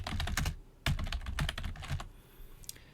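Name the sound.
typing on computer keyboard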